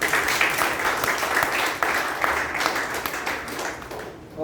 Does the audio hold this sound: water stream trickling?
no